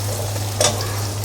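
Okra fries in a pan in a soft continuous sizzle over a low steady hum. A single brief stir or scrape stands out in the middle, with no talking.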